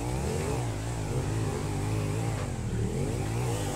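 A motorcycle engine in GTA V drones and revs steadily at close range through parkour play, a continuous buzzing mid-pitched whine with slight pitch wavering and no pauses.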